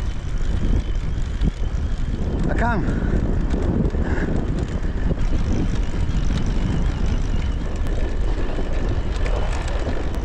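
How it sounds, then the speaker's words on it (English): Strong wind buffets a microphone nonstop while someone rides a bicycle across a Kenyan desert, a heavy roaring rumble with gusty surges, and someone briefly speaks under it. "Oh man, the wind is so strong."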